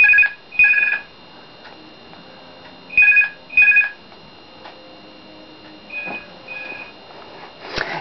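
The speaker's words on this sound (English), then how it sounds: "Oh, that's the phone." A telephone rings in bursts of paired electronic trills, loud and close, separated by quiet gaps, followed by fainter tones near the end.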